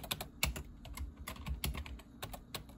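Quick bursts of typing on a computer keyboard in an old Apple setup, crisp close clicks in irregular clusters with no talking.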